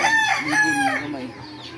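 A bantam rooster crows once, close and loud, with a drawn-out call that trails off at the end.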